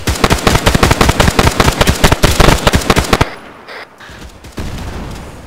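Rapid burst of loud, sharp gunfire cracks in a military shooter game, then an abrupt drop to quieter ambient rumble with a few scattered thuds; the RPG launch and jeep hit are not distinctly separable within the barrage.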